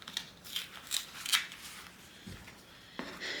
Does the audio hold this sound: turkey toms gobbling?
no